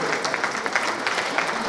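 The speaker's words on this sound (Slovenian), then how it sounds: "Še en aplavz" Audience applause at a concert of two brass bands at the Posavje Museum in Brežice, a brief burst of dense clapping from a seated crowd with a voice briefly audible over it.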